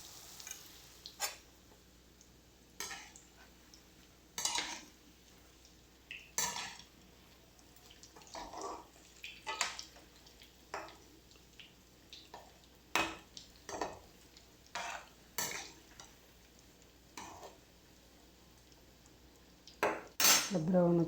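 A spoon stirs and scrapes in a pan while curry gravy fries in oil, giving scattered metallic clinks and scrapes at irregular intervals over a faint, steady sizzle.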